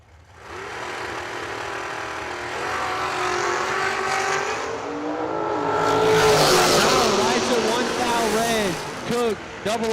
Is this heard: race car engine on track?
yes